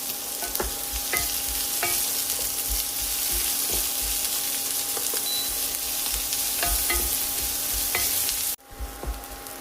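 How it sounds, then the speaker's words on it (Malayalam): Sliced shallots and garlic sizzling in hot oil in a pan, a steady close frying hiss with occasional stirring scrapes, cutting off abruptly near the end. "ചെറിയ ഉള്ളിയും വെളുത്തുള്ളിയും ചേർക്കാം."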